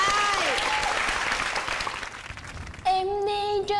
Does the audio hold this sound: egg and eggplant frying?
no